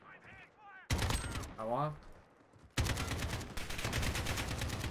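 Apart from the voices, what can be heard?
AK rifle gunfire in video game Call of Duty Modern Warfare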